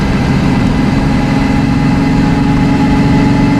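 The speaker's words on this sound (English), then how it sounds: "I shifted down into second, selected torque converter lockup" A LeSharo motorhome engine runs steadily in second gear with torque converter lockup, engine braking on a descent: a continuous low, dense drone at constant loudness, close and with no talk.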